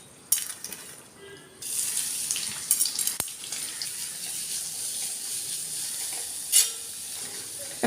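Chopped onion drops into hot oil with cardamom and cloves, setting off a broad, moderate hiss that continues steadily with a few clatters and a brief louder burst.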